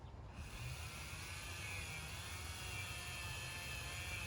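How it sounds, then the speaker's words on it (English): A Dremel rotary tool fitted with a wire wheel scrubbing corrosion off a car brake rotor, a steady high-pitched whine and buzzing grind held continuously and close throughout. "we're gonna clean up some more corrosion with the Dremel and a wire wheel"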